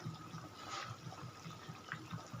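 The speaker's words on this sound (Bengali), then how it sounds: "দেখুন ফুটছে" A lentil and egg kofta curry simmers in a pan, making faint, soft, rhythmic bubbling and popping close by in a quiet room.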